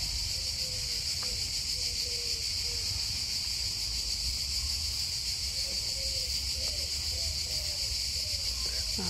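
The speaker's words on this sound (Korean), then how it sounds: "짝을 찾는 매미 소리, 요란합니다." Cicadas drone in a steady, loud, high-pitched buzz that runs without a break, with faint birdlike chirps and low rumble underneath.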